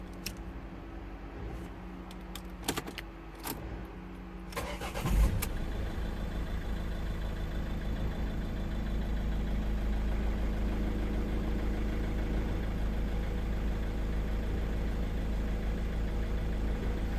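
A 2010 Ford Galaxy 2.0 TDCi diesel engine with a cutting-out fault ticks and cranks a few times, catches with a burst, then settles into a steady, low idle that continues uninterrupted.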